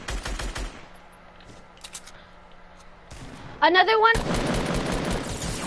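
Gunfire from a multiplayer shooter game, with a dense burst of rapid shots in the last seconds, loud and close, following several earlier sharp pops, while players talk over it.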